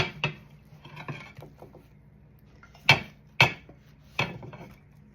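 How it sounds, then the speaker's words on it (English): Omelette slid off a pan onto a plate, a few soft scrapes followed by several sharp clinks and knocks of crockery and pan, close and moderately quiet, with no talk. "To plate this, I'm just going to slide it right off of the pan."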